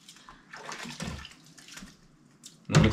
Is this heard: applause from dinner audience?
no